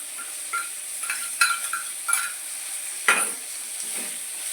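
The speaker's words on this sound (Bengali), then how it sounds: "দিয়ে আমি এটাকে খুব ভালো করে নেড়ে চেড়ে নিলাম।" Tomato, ginger-garlic paste and green and red chillies are stirred in a pan for bhetki fish-bone chorchori, with a soft sizzle and several short scraping strokes of the spatula at an uneven pace.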